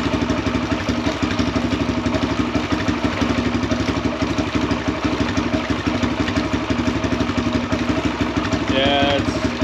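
Kawasaki KLX140RF dirt bike engine running in second gear with the rear wheel spinning on a flat tire, a close, continuous chugging drone with a fast regular pulse and a brief rising whine near the end.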